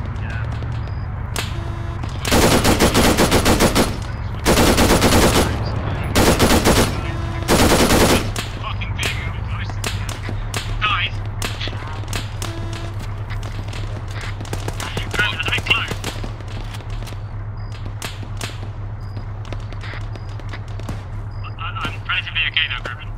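Gunfire in the military video game Arma 3 during a night fight, several loud bursts of automatic fire in the opening seconds, then scattered distant shots under quiet talk.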